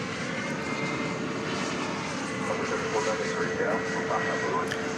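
A jet airliner in from Honolulu taxis toward the terminal at DFW Airport on a summer morning, its engines giving a steady, continuous rumble and whine at moderate distance, with a voice talking over it.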